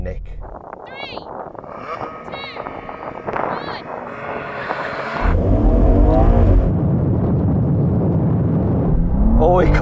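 Several cars, a BMW M2, Audi RS3, AMG A45 S and Porsche Boxster GTS, launch together in a drag race, a loud roaring surge of engines midway after quieter wind-buffeted moments.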